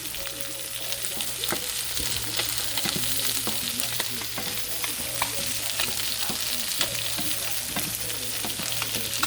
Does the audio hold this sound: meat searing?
yes